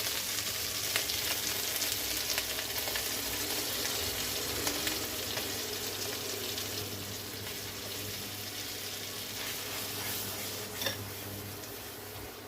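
Ginger garlic paste and a ground spinach kabab mixture fry in a pan, giving a continuous soft sizzle with faint ticks and stirring scrapes, fairly quiet and heard alone without talk.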